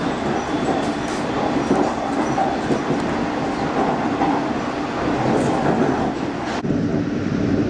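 A refurbished London Underground Jubilee line train rolls along steadily, heard from inside the carriage. The rumble is continuous with rhythmic clickety-clack over the rail joints and a sudden drop in the noise near the end.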